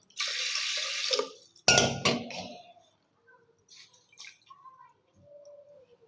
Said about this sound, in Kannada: ಇನ್ನು ಸ್ವಲ್ಪ ನೀರು ಹಾಕೊಳ್ಳೋಣ.